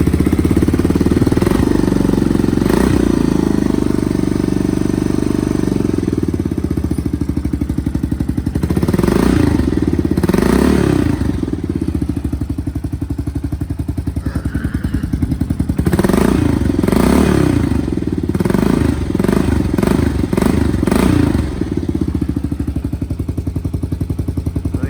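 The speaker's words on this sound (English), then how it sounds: "we're gonna do one more cold start" A 1985 Honda 250 motorcycle engine idles after a cold start with a loud, close, uneven chugging and rattling putter that surges and dips throughout, with no voices.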